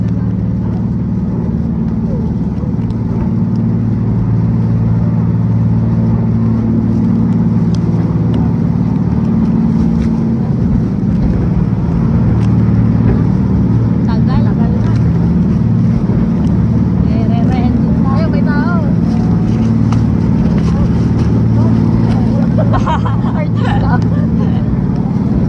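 A big Whirlpool jet boat on a Niagara river tour motors through small class 1 rapids, its engine a loud, constant low roar with wind and water rush layered over it throughout.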